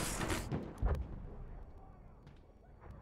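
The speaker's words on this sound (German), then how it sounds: "er schießt die ganze Zeit immer auf mich" Gunfire in a video game shooter comes as loud booming bursts, a heavy barrage at the start and another sharp blast about a second in, followed by a low rumbling game background.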